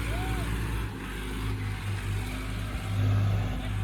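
A New Holland 3630 4x4 tractor, just freed after getting stuck, runs with a steady, low engine rumble close by that rises briefly near the end, with faint background voices.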